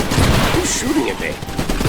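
Bursts of gunfire in the video game Iron Brigade, dense and loud, rattling continuously through the whole moment with a few brief higher tones over the barrage.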